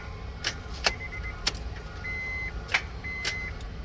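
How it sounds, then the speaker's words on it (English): Sharp, isolated clicks from the starter of a 2005 Honda Pilot that won't start, several spaced a second or so apart, close and fairly loud over a low steady background hum. "So that's about it, just a click."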